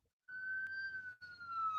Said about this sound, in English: Look, we got an ambulance.